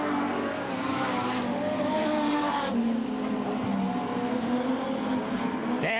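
Modified sedan race cars accelerating together after a restart, a steady dense engine roar with some tire noise, loud and continuous throughout.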